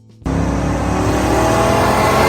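A 1970 Chevrolet Chevelle LS6 with a 454 cubic inch V8 bursts into a loud, sustained rev after a brief quiet moment, the deep engine roar holding steady and close.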